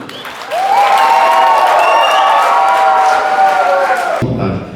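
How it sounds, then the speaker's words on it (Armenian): Guests on the groom's side of a wedding break into loud applause and cheering, a dense crowd roar with whistles and whoops that holds for several seconds and then cuts off abruptly. "ծափեր են տալիս Փեսայի կողմը։"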